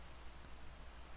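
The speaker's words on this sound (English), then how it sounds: "Great, it's raining." Rainfall in the Minecraft mod Crafting Dead plays as a faint, even patter and hiss of in-game rain, continuous and alone.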